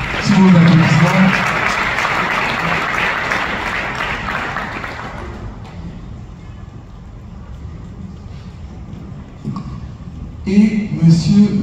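An audience applauds Uganda's ambassador at a gathering in Paris, dense clapping loud at first and then fading into quieter room noise, with a brief burst of clapping returning at the end.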